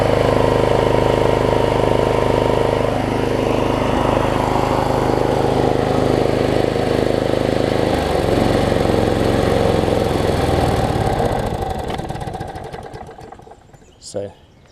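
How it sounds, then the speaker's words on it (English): A Troy-Bilt push mower with a Briggs 5hp Quantum engine runs steadily after a carburetor jet cleaning, with someone talking over it. The engine then winds down and stops near the end, leaving a faint clatter. "So as you can see, it's not really surging anymore either."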